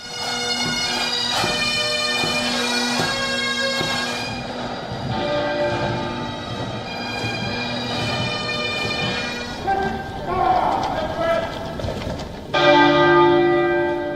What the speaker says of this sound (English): Chimes of the Big Ben marked the start of the state funeral.